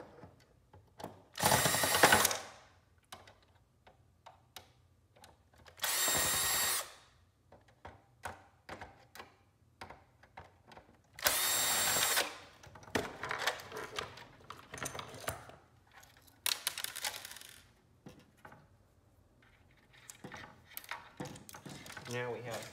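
Screws being removed from a Fellowes paper shredder during a teardown, with several loud ratcheting bursts of a driver, each lasting about a second, between quieter clicks and handling noises, close up.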